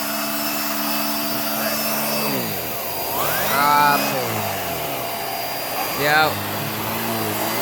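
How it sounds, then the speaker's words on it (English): Hoover React Professional Pet vacuum cleaner running loudly on upholstery, a steady motor whine that dips and rises in pitch as the head is pressed and lifted, with a brief spoken word. "Let's see how well it spins on the actual upholstery."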